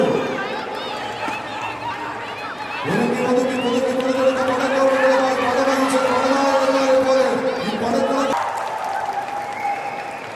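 A crowd at a tug of war contest at LuLu Mall Kochi claps and cheers in a sustained wash of applause, and a loud amplified voice talks over it in the middle.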